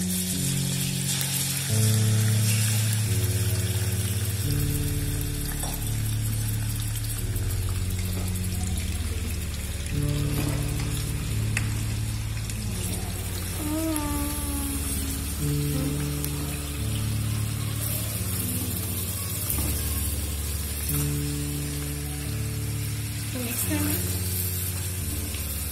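About 1.5 kg of chicken sizzles in ghee in a karahi, a continuous frying hiss with occasional stirring, partly masked by steady background music throughout.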